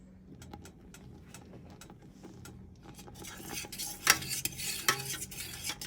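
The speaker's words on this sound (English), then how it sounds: "Starting to come to a boil, almost ready." Strawberry lemon marmalade heating in a pot and starting to boil, with soft bubbling and sizzling, then louder clinks and scrapes of a spoon stirring against the pan.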